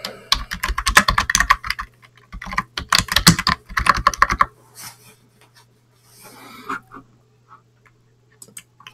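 Commands being typed on a computer keyboard during Linux administration: two fast bursts of close, crisp key clatter, then a pause with a few faint rustles and scattered taps.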